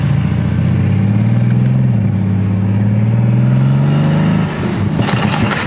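A Mercedes car engine held at high revs with a sustained, rising drone, then letting off near the end into a sharp, crackling blow-off burst, close and loud.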